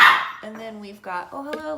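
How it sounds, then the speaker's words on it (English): Dog barking indoors, a few short yappy barks close by in quick succession while a person keeps talking. "That's my dog"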